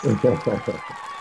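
Applause sound effect played back at a New York City tech event, bursts of clapping for about a second that swell and cut off abruptly into a faint hum.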